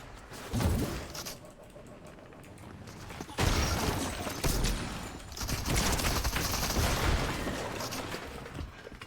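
Several heavy pump-shotgun blasts in a Fortnite match, each a sharp boom with a rumbling tail, ringing out every second or two over continuous game noise and distant gunfire.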